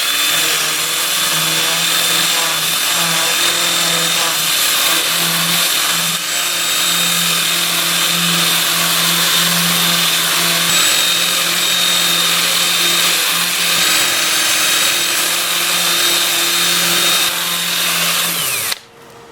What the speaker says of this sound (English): I'm going to switch to my 2-inch disc. I'll have the lathe spinning in reverse at 350 RPM.